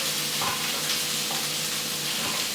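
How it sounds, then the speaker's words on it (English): Chopped onions and crushed garlic fry over medium heat in a pan for lentil dhal, giving a loud, steady sizzle with faint stirring scrapes and no talking. "So add the onions to the pan, crush the garlic"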